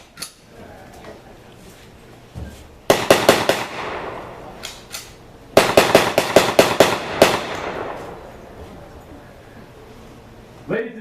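Loud shoulder-fired shots from an M1 carbine at a live firearms demonstration ring out in two sharp rapid bursts of several rounds each, with a pause between them.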